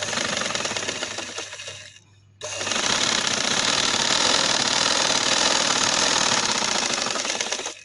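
A sewing machine stitches dress fabric with a steady, close, rapid mechanical whir, pausing briefly after two seconds, then running continuously again.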